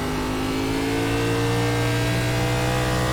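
A NASCAR Class B stock car engine in the iRacing simulator roars loudly and continuously, holding a steady, dense drone with slight pitch shifts as the throttle changes, with no talking.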